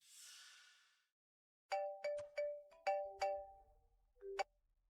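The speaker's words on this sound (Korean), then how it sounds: "린달은 방금 수혜아가 전화했어" Phone ringtone sounding for an incoming call in a Korean drama scene: a bright melodic run of distinct chiming tones that plays clearly on its own after a faint breathy hiss.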